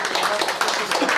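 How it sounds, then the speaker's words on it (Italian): Applause from an audience at a book presentation in Lanciano, a dense, steady patter of clapping hands held at an even level for about a second. "Qui va anche un applauso"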